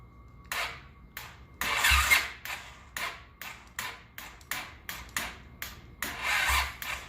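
A 1983 Honda GL650 motorcycle engine cranks over on a weak, partly dead battery, laboring through a steady series of about a dozen rhythmic, close whirring strokes without catching.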